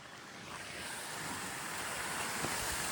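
Water gushing from a pump pipe at a village farm, a steady broadband rush that swells in the first second and then holds loud and constant, with no talk.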